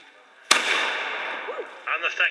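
A black-powder hand cannon fired at a Major Oak re-enactment in Sherwood Forest gives one sharp, loud outdoor blast that decays slowly, followed by faint voices.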